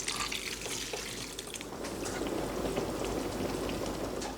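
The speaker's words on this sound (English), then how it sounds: "While the filling simmers," Shepherd's pie filling simmers in a pan, a steady close bubbling and hissing texture with soft irregular pops, continuous and moderately quiet with no talking.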